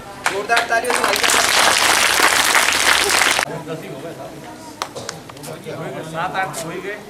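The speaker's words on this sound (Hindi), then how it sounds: "जोरदार तालियों से" Loud applause from an audience at a local news event in Vidisha, dense clapping for about three seconds that then cuts off abruptly, followed by scattered sounds and people talking.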